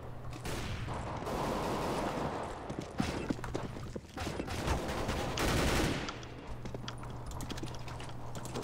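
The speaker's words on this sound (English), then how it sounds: "You're shooting at the wrong people." Rapid gunfire in Counter-Strike rattles in dense bursts over steady game background noise, with clustered shots rising to a heavy volley before easing off.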